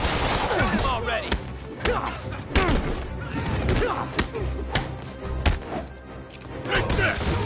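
Gunfire and heavy thuds fill a PS4 video game scene as scattered booming shots and impacts over a dense background of game sounds, with a voice talking over it.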